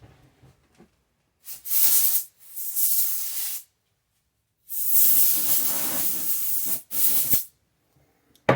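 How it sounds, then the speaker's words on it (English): Compressed air blasting clean a ceramic part from a Babyliss hair clipper: loud, close hissing bursts in several separate blasts of differing length, with silence between them. "So I just cleaned it off with some compressed air."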